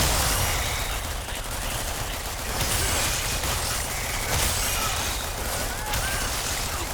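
Sustained rapid gunfire from an automatic turret in the sci-fi twin-stick roguelite ANVIL, a dense continuous rattle running the full length at steady loudness with busy game effects layered over it.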